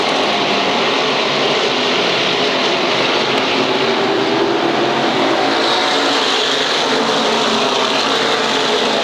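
Open wheel modified race cars roar around the Waterford Speedbowl oval in a main event, a loud, dense, continuous engine drone that swells and shifts as the pack passes, with no talking.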